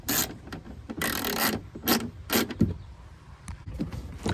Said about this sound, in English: Then we'll grab our socket again. And we'll get it nice and tight.